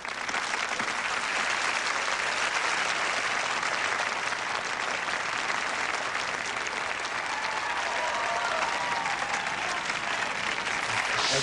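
Sustained, dense applause from a large audience after a BMX double backflip attempt, filling the whole stretch, loud and steady with no pauses.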